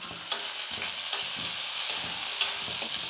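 Boiled beans tossed into sautéed onions sizzle in a pan, with a steady close crackle and a few regular scraping stirs of a spoon, no voices present.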